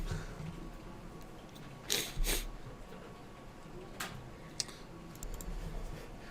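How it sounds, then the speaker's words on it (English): Sparse keystrokes on a computer keyboard while logging into a Windows server as administrator: a few faint, scattered clicks and a short cluster of taps over a quiet room hum, with no talking. "That's a lot to type."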